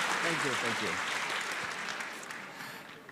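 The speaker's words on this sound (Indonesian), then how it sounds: "Kita berikan tepuk tangan pada serangan rapid fire." The audience at the CIFP 2023 foreign policy forum applauds after Anies's rapid-fire round, with someone speaking over the opening moments and the clapping gradually tapering to a thinner patter.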